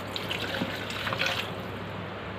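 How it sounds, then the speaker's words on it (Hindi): Cold water is poured into a glass, a short, soft trickling splash of liquid with faint drips, heard alone without speech. "ये एक गिलास ठंडा पानी है,"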